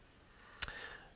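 A single faint computer mouse click pressing a login button, one sharp tick in a quiet room.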